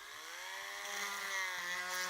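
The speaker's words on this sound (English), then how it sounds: "take a drill bit, right? And so I can just drill" A power drill spins a bit into a plastic action figure. It gives a steady, close, high whine with a slight pitch drift, and no one speaks.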